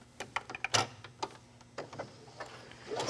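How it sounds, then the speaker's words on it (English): Sewing machine back stitching at the start of a 3/8 inch seam on wrap dress bodice fabric: a quick run of sharp mechanical ticks and taps, fairly close, irregular and brief, with quiet gaps between bursts. "So just back stitch a little bit at the beginning of my seam"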